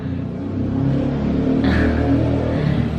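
A car engine revving loudly nearby on a street in Mexico, rising in pitch midway and holding a steady roar with street noise around it.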